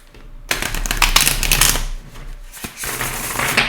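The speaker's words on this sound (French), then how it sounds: "Donc on va reprendre une carte pour vous." Tarot cards are drawn and shuffled by hand, giving a close, crisp flurry of riffling and flicking paper that rises quickly and continues in uneven bursts.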